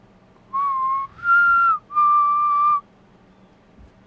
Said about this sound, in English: I am the whistling man.